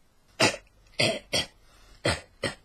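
A video game character's cough emote: five short, breathy coughs in quick succession, clear and close, with brief pauses between them and no talking.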